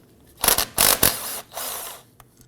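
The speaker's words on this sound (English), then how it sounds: "loosen and remove the two bolts." Brake caliper bolts on a 2015-2020 Ford F-150 loosened with a 13mm socket, a few quick close mechanical ratcheting and whirring bursts from the tool, no talk.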